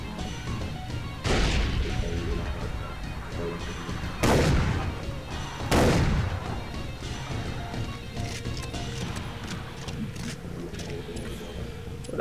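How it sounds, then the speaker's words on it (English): Three heavy shotgun blasts in the Blood Dragon video game, each a sharp crash with a booming tail, spaced a few seconds apart over a continuous game soundtrack and ambience. "Shotgun."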